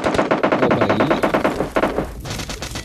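Rapid automatic gunfire in PUBG Mobile Lite, a dense loud burst of shots in fast rhythm for about two seconds, followed by a few scattered shots.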